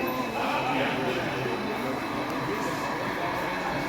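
An intermodal freight train rolls past in the Nebraska countryside, a steady broadband rumble of cars on rails holding at an even level throughout with no clear change, while a voice speaks over the top.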